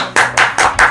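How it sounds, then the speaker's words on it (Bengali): Hands clap four times in a quick, even rhythm, each sharp and close, during a balloon-blowing challenge game. "হাততালি"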